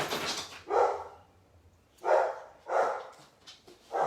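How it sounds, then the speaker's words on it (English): A big dog barks loudly indoors, four heavy separate woofs spaced about a second apart, fairly close. "He has a big bark, eh?"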